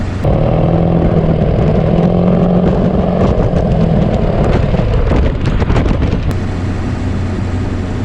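Ford 7.3 Powerstroke diesel truck with a new daily tune accelerating hard, a loud steady engine roar with rising drone and a brief sharp pop near the end, no voices.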